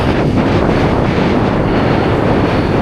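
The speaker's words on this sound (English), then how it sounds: "A little bit more wind up here." Strong wind roars steadily and loudly across the microphone while parawing riding upwind at Kanaha, a dense, unbroken rush with no voices.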